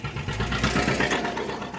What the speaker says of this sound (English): if you can see the tractor driving by